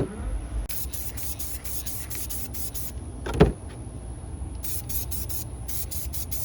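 Aerosol spray paint applied in light coats to a cheap 1/10-scale PVC RC car body shell: a run of short hissing spray bursts, a pause, then another quick series of bursts, close and steady over a faint room hum.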